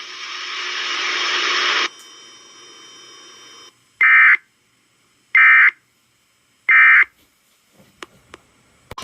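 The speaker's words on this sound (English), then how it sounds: "This is a test of the NOAA weather radio warning device." A NOAA weather radio warning device test sounds after a burst of static-like data noise: three loud, evenly spaced electronic alert tone beeps, each about half a second, followed by faint clicks.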